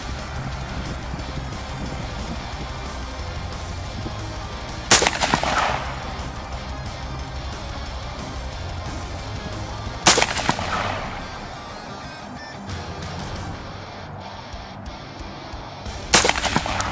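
Three sharp rifle shots with red dot sights ring out at an outdoor shooting range, each spaced several seconds apart and followed by a brief echoing decay over steady background noise.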